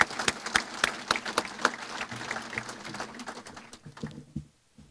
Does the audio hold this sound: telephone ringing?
no